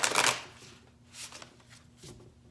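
A tarot deck is shuffled for a reading, a brisk riffle of cards at the start followed by softer scattered card flicks and shuffling over a quiet room.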